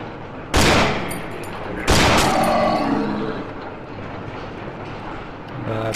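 Gunfire in the horror video game Cry of Fear: two sharp, loud rifle shots about a second apart, each followed by a ringing tail, with a faint voice and ambient game noise between them.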